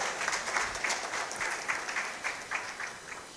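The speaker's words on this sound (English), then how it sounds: "Please, a round of applause once again for them" Applause from the audience at a national stakeholders' dialogue, a full, fairly loud spread of clapping with rhythmic pulses running through it, sustained throughout without speech.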